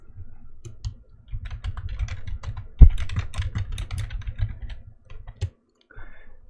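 Rapid keystrokes on a computer keyboard, close and steady clicking in quick bursts with a brief pause near the end and one sharper knock midway.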